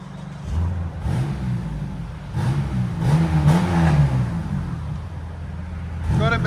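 Revving of a 2002 Chevy Camaro with a 3.8L V6 and Cherry Bomb Pro muffler, a few loud close blips of throttle swelling and falling over a steady idle rumble, with faint voices in the background.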